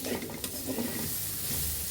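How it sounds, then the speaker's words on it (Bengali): Taro pieces frying in a pan, a brief burst of steady close sizzling with soft stirring. "আমাদের কচু কচুগুলো ভাজা হয়ে গিয়েছে"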